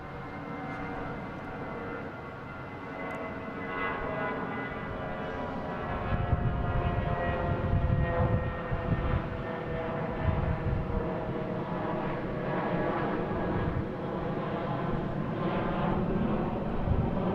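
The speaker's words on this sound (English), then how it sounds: "we have this JetBlue heading to JFK in A320 Flight 1117" A JetBlue Airbus A320 jet airliner bound for JFK at Boston Logan airport gives a steady, rumbling engine roar that swells slightly partway through, heard from a distance outdoors.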